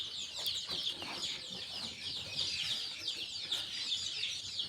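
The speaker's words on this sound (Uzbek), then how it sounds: "Hozir endi orqada jo'jalar bor," Young chicks and hens by a newly built home chicken coop chirp and cluck continuously in a busy, high-pitched chorus, fairly quiet and close with no talking.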